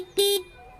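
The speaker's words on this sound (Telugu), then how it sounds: "హార్న్ యొక్క లౌడ్నెస్ అనేది ఒకసారి చెక్ చేద్దాం." A single short beep from the horn of a 2024 Hero Destini 125 XTEC scooter, loud and close, lasting about a fifth of a second, with a faint click afterward.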